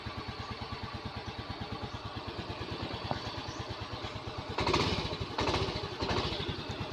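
A Yamaha Mio Soul scooter engine idles close by with a steady rhythmic putter, briefly revving louder a few times near the end. The scooter is hard to start and stalls when the throttle is opened.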